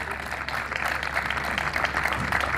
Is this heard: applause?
yes